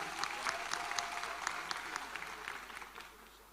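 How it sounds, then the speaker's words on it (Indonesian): An audience at a political declaration event claps for a few seconds, a dense, moderately distant applause that gradually thins and fades toward the end. "Kita berikan aplaus kepada Mas Gibran."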